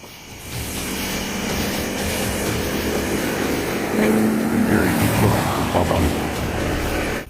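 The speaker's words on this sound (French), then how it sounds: "Le bruit d'un moteur se révèle être simplement une voiture arrivant en sens inverse." A car driving at night on a bridge approaches from the opposite direction, its engine a broad low rumble that grows steadily louder and peaks near the end before easing slightly.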